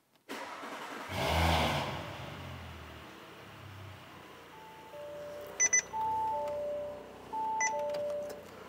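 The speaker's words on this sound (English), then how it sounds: "as you guys just saw, the car did crank over" An Audi 2.9T/3.0T V6 (B9 S4/S5/SQ5/RS5) with a freshly installed high-pressure fuel pump cranks over in a workshop: a loud burst of starter churn, then lower mechanical running with brief electronic beeps and tones afterward.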